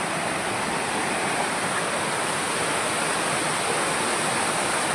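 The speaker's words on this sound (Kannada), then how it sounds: "ನೀರು ನೋಡಿದ್ರು ಹೆಂಗೆ ಹರ್ಕ ಬರ್ತೈತೆ" Water rushes at Ezharakund waterfall in Kerala, a dense, constant roar that is loud and unbroken throughout, with no other sounds.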